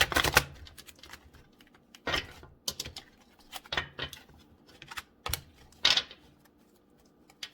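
Cards are shuffled in a string of quick, crisp riffling bursts, close by and separated by short pauses, with no talking.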